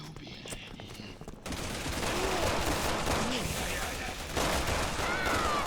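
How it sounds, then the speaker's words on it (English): Enemy machine guns in Resident Evil 6 unleash rapid, sustained bursts of gunfire; after a brief quieter lead-in the shooting jumps louder and continues as a dense, relentless rattle to the end. "The machine guns are very tedious, and I'm very tired of them as well."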